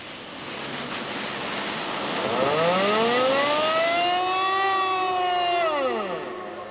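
An air raid siren wails loudly in wartime Bosnia, its tone rising then slowly falling, drawn out over a steady rushing background.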